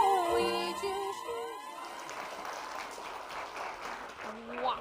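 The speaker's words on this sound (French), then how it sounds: "On peut les applaudir encore" An audience applauds at a Chinese community celebration in Burkina Faso. Sustained clapping fills the room after sung music fades out, and faint music returns near the end.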